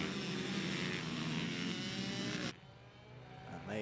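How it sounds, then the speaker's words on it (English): Mini bike racing at Whilton Mill with two-stroke machines and Honda CRF 150 four-strokes, a loud dense blend of screaming and roaring engines that drops sharply partway through, leaving a quieter engine drone that rises again at the end. "You've got the scream of the two-strokes, the roar of the CRF 150 four-strokes."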